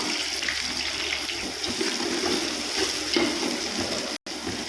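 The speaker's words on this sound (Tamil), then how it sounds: "நல்லா ப்ரௌன் ஆகிற வரைக்கும் வதக்கிக்கோங்க" Sliced onions and green chillies sizzle in hot oil for chicken biryani, a steady watery hiss with light crackle and occasional stirring, continuous and close, with one brief dropout near the end.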